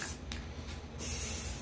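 A spray paint can hisses in steady bursts onto canvas in a home garage, the broadband hiss close and continuous with brief pauses between sprays.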